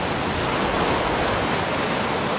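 Tsunami surge pouring over a sea wall onto a coastal road in Kona, Hawaii: a loud, continuous broadband roar of rushing water, close and unbroken, with no voices.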